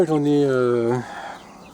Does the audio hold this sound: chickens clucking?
yes